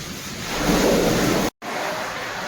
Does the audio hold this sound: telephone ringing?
no